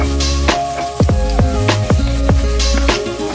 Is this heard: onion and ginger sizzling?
yes